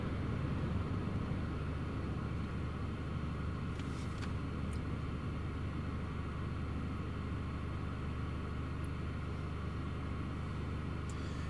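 KLM airliner at Newcastle Airport during a storm, a low steady jet rumble blending with strong wind noise throughout, fairly distant and constant without clear rise or fall.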